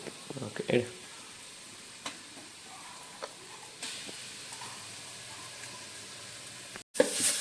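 Onion, ginger and garlic sizzle in a pan while being stirred, with a steady soft frying hiss, scattered scraping clicks near the start and a sharp knock near the end.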